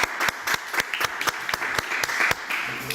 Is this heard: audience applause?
yes